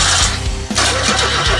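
A Renault 4L engine with a starter problem grinds over on its starter in a steady, loud chugging rhythm, with a brief dip partway through before the cranking resumes, without starting.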